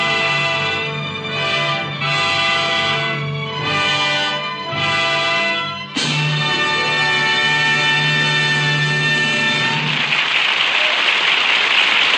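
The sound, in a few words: studio audience applauding Agnes Moorehead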